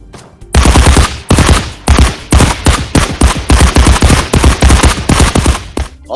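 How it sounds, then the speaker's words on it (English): Gunfire from the VR shooter game Contractors rings out in loud, rapid bursts of repeated shots, separated by brief pauses and heard alone, with no talking. "Gun blasts and explosions sound like they should."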